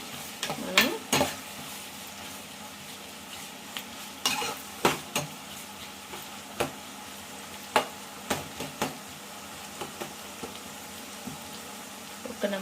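Small tomato pieces frying in a pan for a cucumber and dried fish curry, with a steady sizzle broken by repeated stirring clanks and scrapes of a spoon against the pan.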